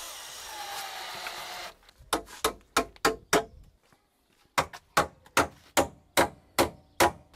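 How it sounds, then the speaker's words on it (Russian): A screw driven in with a power driver on a roof gable build with ceramic blocks, a quick series of sharp clicking ratchet bursts in two runs separated by a brief pause, close and crisp. "Так, закручиваем шуруп, на который будем потом привязывать нитку."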